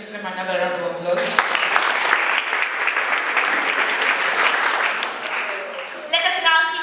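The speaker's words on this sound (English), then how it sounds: "Let us give them another round of applause" A loud, dense round of applause from a grade 5 class audience for student presenters, sustained for several seconds, with a voice speaking over the start and again as the clapping ends.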